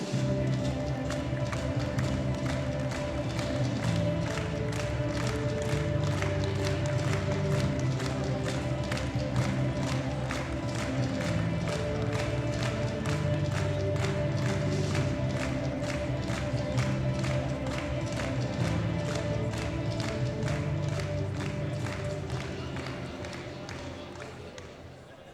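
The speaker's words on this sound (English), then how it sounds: "Please give them a round of applause." Sustained audience applause at the 2019 World Classic Powerlifting Championships, honoring the men's sub-junior 83–105 kg lifters; dense, steady clapping from a large indoor crowd runs throughout, fading slightly near the end.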